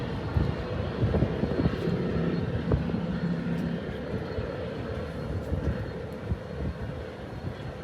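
A deep, steady twin V8 engine rumble drones at moderate distance, a low continuous roar without talking.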